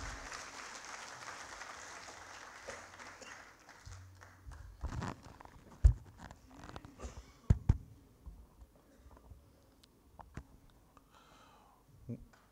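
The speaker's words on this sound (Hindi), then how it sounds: "जेपी तोमर जी एक बार जोरदार तालियां बजा देंगे भाई साहब।" Applause breaks out for a speaker at a BJP OBC Morcha political event, a burst of clapping in the first seconds that gives way to scattered claps, thumps and crowd movement in a hall.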